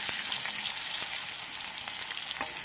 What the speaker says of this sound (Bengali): এদিকে আমি মাছের জন্য আলু ভাজছি